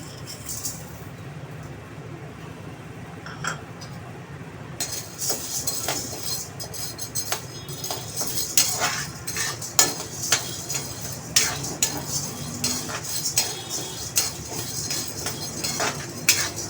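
Chana dal roasting dry in a hot kadai, stirred continuously with a metal spoon, giving a steady rattling, clinking scrape that grows busier and louder after a quieter start, with no talk.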